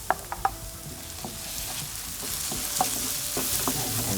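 Grated corn hits a pan of frying onions with a few sharp spoon scrapes at first, then a steady, close sizzle that builds and holds, with occasional utensil clicks.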